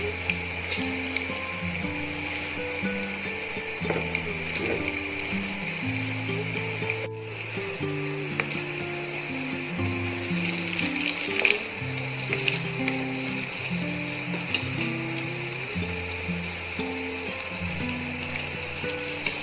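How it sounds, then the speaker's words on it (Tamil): Eggs fry and are scrambled in a pan with turmeric, chili powder and salt for egg biryani, a steady, faint sizzle running throughout beneath background music. "இப்போ இதெல்லாம் முட்டையை போட்டு பொடிச்சு எடுத்துடலாம்."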